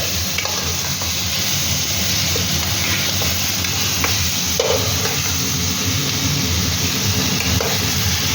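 Chicken stew being stirred in a hot pan after sugar and salt go in, a loud continuous sizzle broken by scraping and clattering strokes of the spoon.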